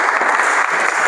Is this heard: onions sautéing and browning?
no